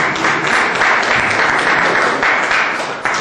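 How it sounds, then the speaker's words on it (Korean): Audience applause at a Seongnam labor union representatives' council forum, a steady wash of many hands clapping close and fairly loud, with no talk over it. "박수 부탁드립니다."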